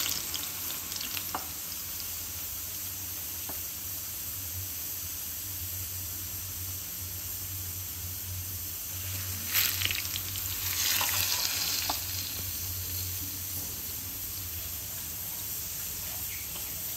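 Vada batter frying in hot oil, a steady close sizzle with a constant low bubbling, briefly rising louder and crackling as more batter drops in.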